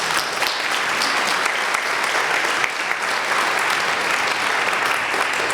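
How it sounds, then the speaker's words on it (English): Audience at a Martin Luther King Jr. community celebration in Newton gives a round of applause, a full, continuous burst of clapping from a large crowd filling the room. "So let's give them a round of applause."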